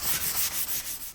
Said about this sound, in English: while sanding, I'll gently scuff the insides of the drawers with a fine sanding sponge.